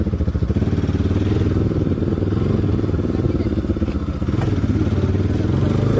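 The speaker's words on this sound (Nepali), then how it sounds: "मेरो बाइक त आवाज मिठो आउँछ एकजस्ट नहाल्दा पनि" A motorcycle engine running with no exhaust fitted idles steadily and loudly nearby for the whole stretch, a rough, rapid, throbbing putter with light mechanical clatter.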